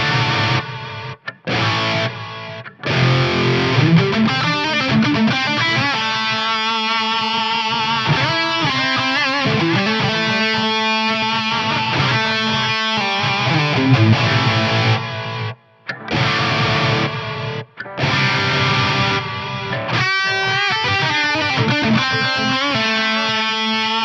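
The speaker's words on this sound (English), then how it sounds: "So this is actually gonna add some grit to my repeats on the drum mode." A Strymon Volante echo pedal in drum mode plays a guitar whose repeats are gritty and distorted, a dense, continuous wash of overlapping echoes with a few brief cutouts.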